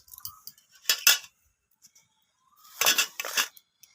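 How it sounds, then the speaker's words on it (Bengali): A spoon stirs salt into water in a pot, knocking and scraping against the metal in two short clinking bursts with a quiet pause between them, close by. "লবণটাকে আমি জলের সাথে একটু মিশিয়ে নিচ্ছি নাড়াচাড়া করে"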